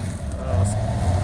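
Dodge L700 cabover truck engine revving hard and steadily as its tires spin for traction, a loud, close, sustained low drone.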